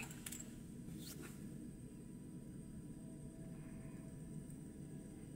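A Buddy propane heater running inside a camping truck in winter, giving a steady low rumbling roar throughout, with faint clicks and hiss on top and no talk.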